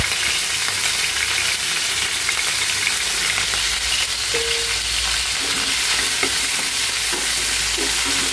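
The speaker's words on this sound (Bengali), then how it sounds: "মাথাগুলো আগে একটু মচমচা করে ভেজে নিব।" Fish heads fry in hot oil in a pan to crisp them, giving a loud, steady sizzle with occasional stirring scrapes over it, close up and with no talking.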